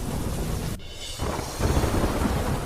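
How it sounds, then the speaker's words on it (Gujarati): Torrential monsoon rain pours down in Surat, Gujarat, flooding the roads, a loud steady broadband roar that cuts out briefly and then returns even heavier. "સુરતમાં ધોધમાર વરસાદ ખાબકતા રસ્તા થયા જળમગ્ન"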